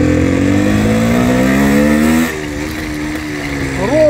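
A Minsk motorcycle with a gearbox that jumps out of gear accelerates smoothly in first gear, its close, loud engine note climbing steadily for about two seconds, dropping off briefly, then rising again at the end.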